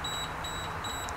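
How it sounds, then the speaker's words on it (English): Three quick electronic beeps sound in an even rhythm, fairly faint, from a small meat thermometer alarm while smoking turkey breast. "That's my alarm."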